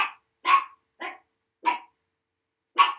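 A dog barks five times, short sharp barks spaced irregularly with silence between them, close and clear with no other sound.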